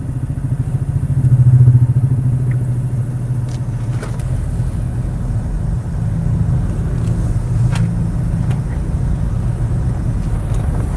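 A motorcycle crawls through a traffic jam, its engine giving a steady low rumble with brief swells and light clatter, close and continuous, with no talking.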